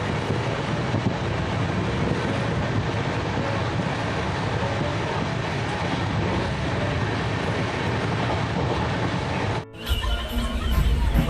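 A Howrah to New Delhi passenger train sits at platform 2 of Asansol station, giving off a loud, continuous rumble and broadband noise that breaks off sharply near the end before resuming.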